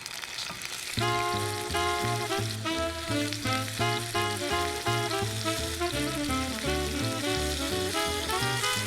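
A pork chop sizzles steadily as it fries in a hot pan over medium heat, a continuous crackle that runs under music playing throughout.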